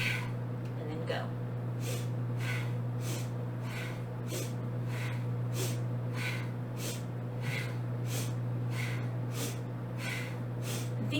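Forceful breathing exhales during a yoga twist sequence, sharp rhythmic puffs of air repeating about every half second over a steady low hum, close and clear.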